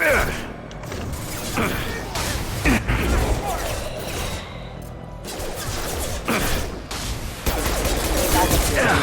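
Dense video game gunfire in Mass Effect, bursts and volleys layered with mechanical clanks and rattles, loud and sustained throughout a battle scene with speech-like game voices mixed in.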